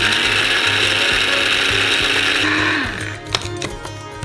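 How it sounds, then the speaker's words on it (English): Coffee grinder whirring as it grinds dried vanilla into powder, a steady mechanical buzz that winds down and stops near the end, followed by a few light clicks. "And send them into the coffee grinder. Here they will turn into a powder."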